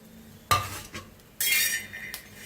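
Green chillies and garlic are stirred and dry-roasted in a pan, with sharp scraping strokes of a metal spatula and bursts of sizzling, close and fairly loud, with no talking.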